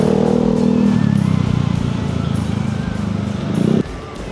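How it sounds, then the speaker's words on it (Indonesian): A loud motorcycle engine runs close by with a steady low rumble and throttle changes, then cuts off abruptly near the end, leaving quieter street noise. "berisik banget motornya mas"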